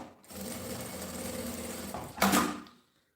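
Sewing machine stitching fabric for a handmade bag, a steady motor whir running continuously for about two seconds, then a brief louder burst as it stops, close and alone.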